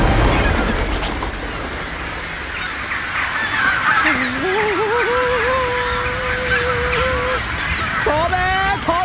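Geese honk loudly and repeatedly as the birds fly up over a dense, noisy background during a volcanic eruption in Yellowstone Park in the film 2012, with a few drawn-out calls near the end.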